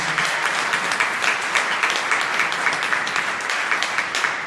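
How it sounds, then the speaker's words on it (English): Steady applause from a gathered audience at a Sunday festival lecture in Turin, even, continuous clapping with no voices over it. "se gli facciamo un bel applauso"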